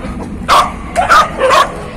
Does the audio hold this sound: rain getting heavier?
no